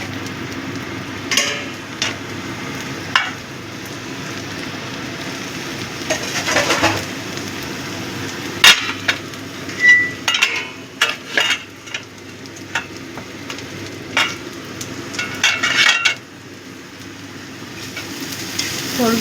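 Pieces of banana stem (thor) for thor ghonto fry in a pan, a steady sizzle beneath irregular scraping stirs and clinks, with bursts of louder stirring partway through, no voices.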